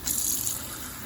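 Tap water runs into a measuring cup for cooking rice, a short gushing splash that is strongest at the start and then settles into a steady pour.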